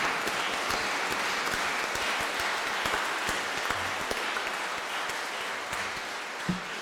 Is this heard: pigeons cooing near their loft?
no